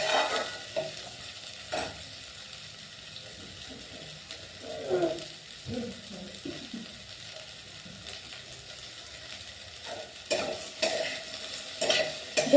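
Finely chopped okra, washed and wiped dry beforehand, fries in a pan for a quick tiffin dish, with a steady low sizzle broken by spatula scrapes and stirring clinks now and then.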